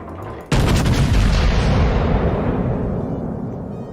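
Warship main guns firing in World of Warships, a single sudden heavy boom that rolls out into a long, loud, slowly fading rumble with no talking.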